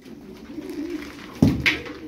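Turkish tumbler pigeons in a loft give a low, soft cooing close by, with a couple of louder coo notes near the end.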